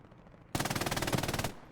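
Sustained burst of machine gun fire in the WWII shooter Hell Let Loose, a rapid, loud stream of shots lasting about a second before cutting off, with no talk over it.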